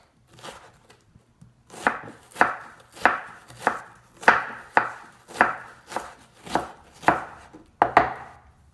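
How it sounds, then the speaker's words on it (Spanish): A knife chops onion on a cutting board in a kitchen, a dozen crisp, evenly spaced strikes close by, steady and unhurried, with no talking. "voy a picar un poquitito de cebolla"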